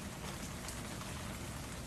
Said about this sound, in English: as rain continues to pour